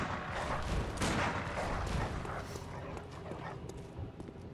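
Dogs in the video game Bloodborne, snarling and barking amid heavy impact noise and clashing combat sounds, loud and close for a few seconds before easing off.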